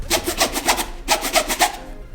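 Rubbing on a Chrome laptop bag of 1680D ballistic nylon makes two bursts of quick, rhythmic rasping strokes, about five each, with a short pause between them. The scratchy sound is close and clear, with no talking.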